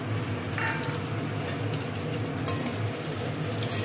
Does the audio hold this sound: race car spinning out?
no